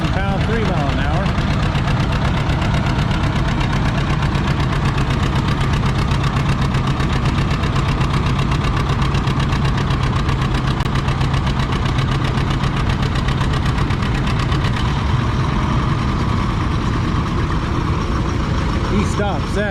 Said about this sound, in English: next hook is a John Deere 70 diesel wide front